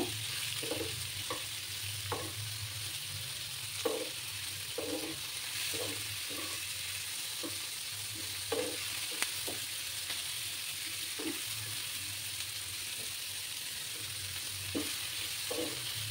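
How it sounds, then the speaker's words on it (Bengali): Onion and egg masala with salt and tomato frying in a pan, a constant close sizzle broken by repeated spatula scrapes and taps at an uneven, steady pace. "দিয়ে একটু ফ্রাই করে নেব।"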